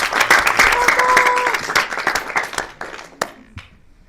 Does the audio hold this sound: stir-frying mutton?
no